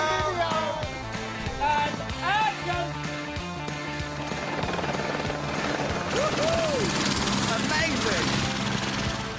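A helicopter ferries film crew, cast and equipment up a mountain on a location shoot, its steady rotor drone running throughout beneath voices and melodic sounds.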